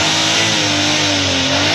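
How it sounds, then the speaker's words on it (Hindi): A motorbike engine sound effect, dubbed over a car, revs loud and continuous with a rising, straining drone for nearly two seconds, close and alone without talk. "ये कार की साउंड है।"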